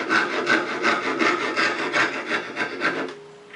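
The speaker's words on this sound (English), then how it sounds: "saw the other shoulder right on the line." A hand saw cuts a wooden tenon shoulder on the line in a quick, even rhythm of about eight rasping strokes, close and clear, slowing and fading into a brief quiet finish.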